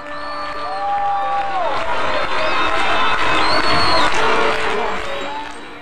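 A loud crowd cheers and claps continuously, with rising whoops and whistles cutting through the noise.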